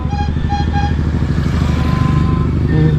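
A motorcycle engine idles roughly and unevenly up close, a steady low throbbing putter with clattering, loud and alone.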